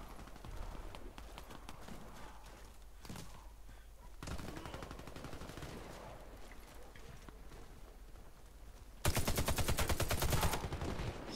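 Rapid automatic gunfire rattles in bursts during a team deathmatch in the video game Warface on PS4, with a louder, denser volley near the end.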